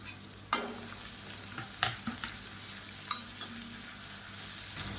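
Cabbage and other vegetables sizzle steadily in a hot pan, with occasional sharp scrapes and clinks of a spoon stirring them.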